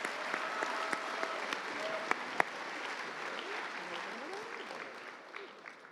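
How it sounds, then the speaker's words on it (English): Applause from an awards ceremony audience at a miniature painting competition, a steady wash of clapping with a few sharper claps standing out, moderately distant. "Let's get a nice round of applause on those."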